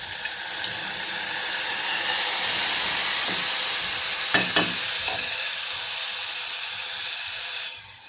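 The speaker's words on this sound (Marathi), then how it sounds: "आपल्याला व्यवस्थित परतून घ्यायचं आहे तुपामध्ये" Rice sautéing in hot ghee for jeera rice, a loud steady sizzle and hiss close by, with a few brief clinks of a spoon stirring before the frying sound fades slightly at the end.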